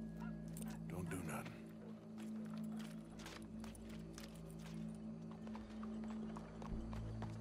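Horse hooves clip-clop at a steady walking pace in the video game Red Dead Redemption 2, sitting under a low droning background hum with voices talking over it.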